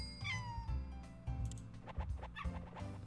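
A cat meows repeatedly in the Doggie Dash video game, a series of short, clear mews over game sounds that include dog-like yips.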